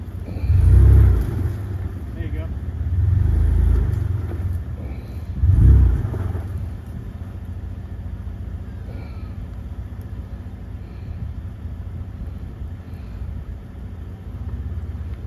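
A Toyota 4Runner engine revs in three heavy low surges early on during an off-road recovery, then settles into a quieter idle-like rumble for the rest.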